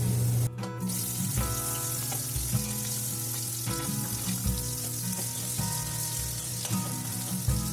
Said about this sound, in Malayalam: ഇത് മാറ്റി ഒരു ലൈറ്റ് ഗോൾഡൻ കളർ ആവുന്നത് വരെ ഒന്ന് റോസ്റ്റ് ചെയ്തെടുക്കാം കേട്ടോ